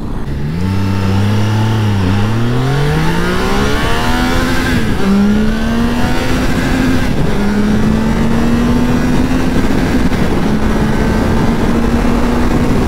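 A Triumph Tiger Sport 660 motorcycle engine revs up loud and close while being ridden, its pitch climbing through gear changes as it accelerates hard, with steady wind rush and no talking.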